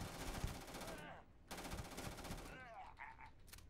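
Rapid automatic gunfire from the video game Starfield, loud bursts in two stretches separated by a brief pause, followed by fainter game sounds.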